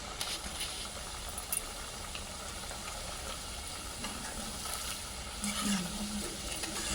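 Potato snacks deep frying in hot oil in a kadai, giving a steady soft sizzle and crackle throughout with occasional faint stirring noises, fairly quiet and close.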